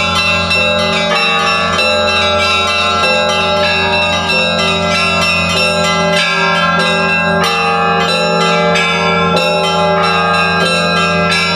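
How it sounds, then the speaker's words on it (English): Church bells in Russia ringing loudly and close, several bells struck in overlapping rhythmic peals with long sustained ringing tones, heard alone with no talk. "Who doesn't love the sound of church bells?"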